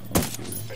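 A single gunshot burst in the video game Ghost Recon Wildlands, one sharp crack followed by a short decaying tail over a steady low game hum.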